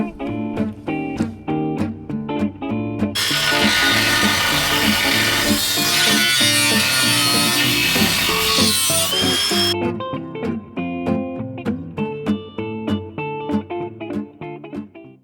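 A power tool cuts and trims Jeep JL fenders before powder coating, a loud sustained whining grind in the middle, with sharp clanks and metallic knocks of handling the parts before and after.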